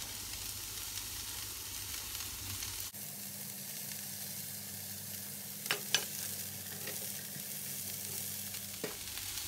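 Corn kernels and carrots stir-frying in a hot pan, a steady sizzle that jumps as the corn drops in, with a few sharp scrapes and clinks of the spatula stirring near the end.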